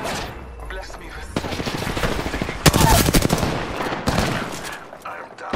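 Bursts of rapid automatic gunfire from a squad-based shooter video game ring out loudly, swelling into sustained volleys with some voice underneath, while a player on voice chat commands the team to engage enemies.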